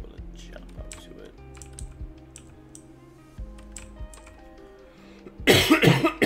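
A man coughs several times in a loud burst near the end, close to the microphone, after a stretch of quiet keyboard typing and clicking with background game music during a co-op game development stream.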